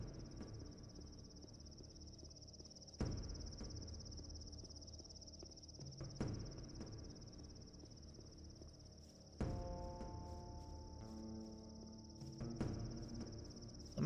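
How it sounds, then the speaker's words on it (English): In the canyon ambiance of the video game Gothic II, a steady high cricket chirp runs throughout, with occasional soft knocks and low tonal game sounds underneath. "I wonder why the only ambiance in the canyon is crickets"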